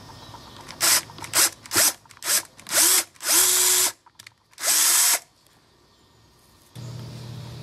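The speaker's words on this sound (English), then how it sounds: "I'm going to use a drill bit, 732. I'm just going to drill down." A power drill revs in a series of short bursts, then two longer whines as it bores down, followed by quiet.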